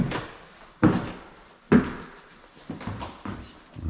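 Heavy wooden thumps with creaks from the floor or stairs of an old abandoned house, several uneven steps, close and fairly loud with no talking.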